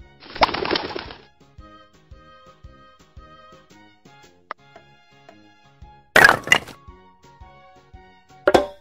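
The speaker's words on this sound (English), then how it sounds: "Pigeon." A cartoon pigeon's coo and wing flaps sound in a kids' animal puzzle game, with short bursts of flutter and cooing between soft game clicks and chimes.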